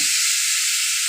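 Radhuni seeds and a bay leaf dropped into hot oil crackle into a loud, steady hiss that fills the short moment close up, with no voices.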